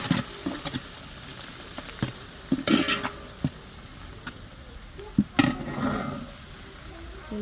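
Crushed ginger and garlic fry in a pan for a biryani, with a soft steady sizzle broken by scraping stirs and clinks of the spoon against the pan at irregular intervals.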